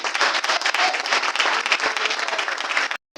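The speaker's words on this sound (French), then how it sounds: "Est-ce qu'on peut l'applaudir?" Dense, loud audience applause at a Gabonese teachers' network launch ceremony, a continuous wash of many hands that breaks off abruptly near the end.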